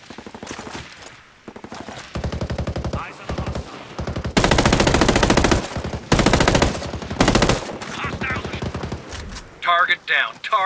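Rapid machine gun fire in Ghost Recon Breakpoint rattles in long, loud bursts separated by short gaps, with a few electronic chirps and warbling tones toward the end.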